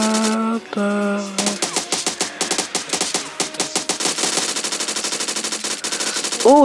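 A Scorpion machine pistol in PUBG fires in rapid full-auto bursts, with very fast, dense cracks that run almost continuously after a short tonal game sound at the start, loud and close.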